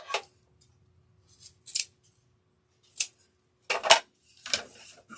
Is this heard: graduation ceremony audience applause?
no